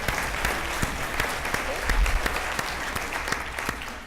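Conference audience at a business leaders panel claps steadily, dense applause with a few sharper individual claps standing out and a murmur of voices underneath.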